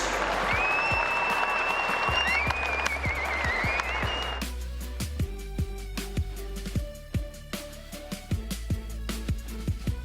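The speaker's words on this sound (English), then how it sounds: "would you give a big round of applause to your WBBL '93 champions, the Sydney Sixers" A crowd applauds the Sydney Sixers as WBBL champions, with loud, dense clapping and high whistles for about four seconds, then the clapping gives way to sparse, scattered clicks.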